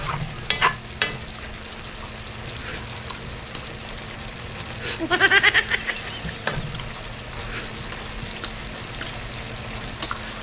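Papaya and sardines cooking in a pot, bubbling and sizzling steadily, with a louder burst of bubbling or stirring midway, heard close up with no talking.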